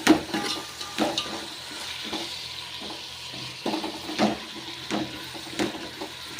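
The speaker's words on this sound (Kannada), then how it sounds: "ಅಲ್ಲಿ ತನಕ ಚೆನ್ನಾಗಿ ಫ್ರೈ ಮಾಡ್ಕೊಳ್ಳಿ." Tomatoes with turmeric sizzle in a pan for veg pulao while a spoon stirs them, giving a low, steady frying hiss broken by scrapes and knocks against the pan at irregular intervals.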